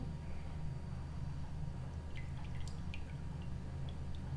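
Coated chicken pieces for a KFC-style zinger burger are dipped in cold water, leaving a faint run of small drips and splashes near the end over a steady low hum.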